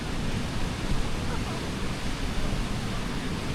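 Water released through a canal lock in Canada as a boat waits to enter makes a dense, steady rushing roar, loud and unbroken, like surf or a waterfall.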